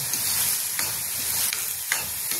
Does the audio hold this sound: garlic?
yes